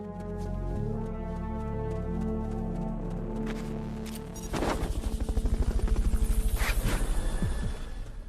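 Helicopter in the video game Metal Gear Solid Peace Walker, a droning engine tone that gives way to a loud rapid rotor chop, close and steady for several seconds with no voices.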